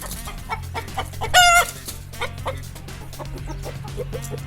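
Chickens cluck close by in short repeated bursts, with one louder drawn-out squawk rising in pitch partway through.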